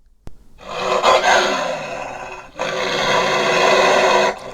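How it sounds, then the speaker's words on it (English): A ferocious creature on a dark alien planet lets out a loud, sustained roar in two long bursts after a sharp click, the second roar steady and rumbling until it cuts off, with no talking. "Out of nowhere, they heard the roar of something that sounded ferocious"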